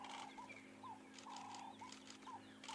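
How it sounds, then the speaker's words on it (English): Ring-necked doves (Cape turtle doves) call at sunrise, a faint, distant series of repeated soft cooing notes in a steady rhythm over quiet background hum. "They're going poop, poop, poop, poop, poop, which is the ring-necked dove, or the Cape turtle dove it used to be known as."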